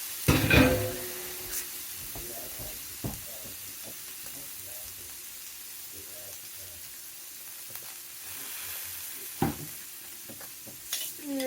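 Shrimp sizzle in oil on a hibachi griddle with a steady soft hiss, broken by metallic spatula scrapes and clicks, a louder splash of frying near the start and end.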